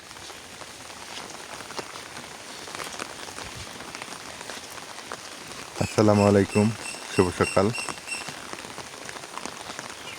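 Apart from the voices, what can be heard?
rain falling on a village morning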